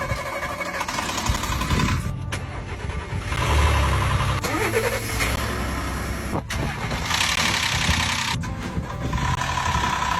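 A Ford Raptor pickup truck's engine runs at idle, a steady mid-pitched drone carrying a faint ticking, slightly clattery cam phaser noise, with brief shifts and dips in tone over about ten seconds.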